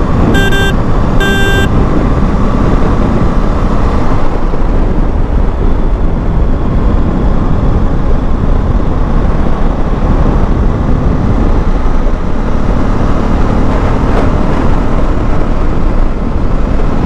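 A 2024 KTM Duke 250 Gen3 motorcycle cruises at about 70 km/h with a steady, loud roar of wind and engine noise that never lets up, opening with two short electronic beeps.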